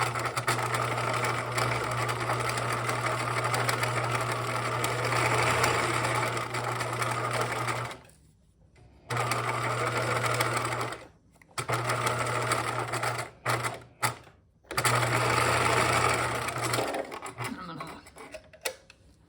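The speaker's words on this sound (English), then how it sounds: "We are going to stitch them along this marked seam line at a stitch length of 3." A sewing machine stitches a seam along a backpack grab handle at a stitch length of 3, running in close, loud, fast bursts broken by short pauses.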